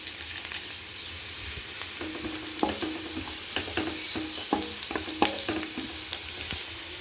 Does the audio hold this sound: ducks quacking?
no